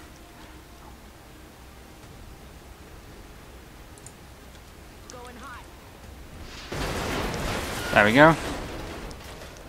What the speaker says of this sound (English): Alright, shoot a rocket.